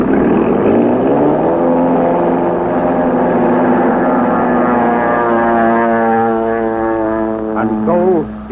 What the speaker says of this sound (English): Into the night roars a plane piloted by a lone man